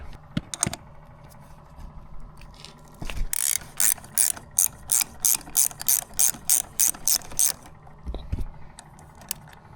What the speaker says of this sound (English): Undo this bolt